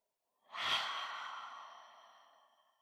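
A single slow, deliberate exhale during a guided breathing exercise, close and soft, swelling quickly and then fading gradually over a couple of seconds with no talk.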